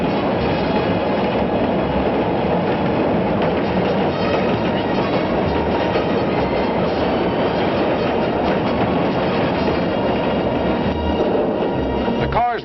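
Third Avenue elevated train rumbling past old tenements, a loud continuous clatter of wheels on rails with screeching near the end, filling the whole stretch without pause.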